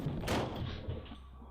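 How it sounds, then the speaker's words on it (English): A door at the top of a staircase slams shut with a single heavy thud, followed by a brief dull rumble fading into quiet room tone. "The door at the top of the stairs slams shut."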